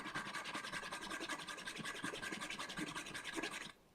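Handsaw cutting through a properly clamped piece of wood, steady rapid back-and-forth strokes with a bright, even rasp, close and alone, stopping abruptly near the end.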